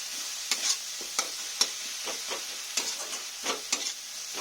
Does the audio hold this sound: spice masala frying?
yes